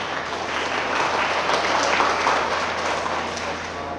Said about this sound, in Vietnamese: Cho thầy cho một tràng vỗ tay đi.